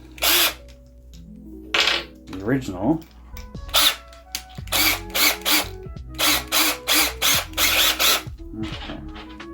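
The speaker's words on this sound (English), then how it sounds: "I have to change out my drill bit" Repeated short bursts of a power drill whirring on and off while the drill bit is changed, with clicks and rattles between them and a brief voice speaking early on.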